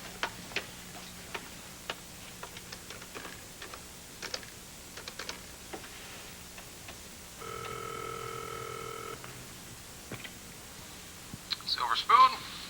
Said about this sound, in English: I've got to make a phone call.